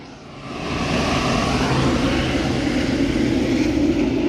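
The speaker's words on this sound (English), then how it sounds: "Like really loud planes!" Loud airplane rumbling overhead on a city street, a broad steady roar that swells in over the first second and then holds strong and continuous.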